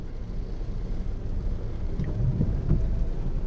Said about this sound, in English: it's raining, so much for that